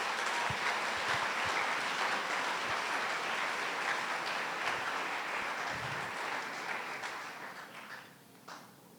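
A church congregation applauding during a Sunday service, a dense, sustained patter of many hands that holds steady and then fades out toward the end.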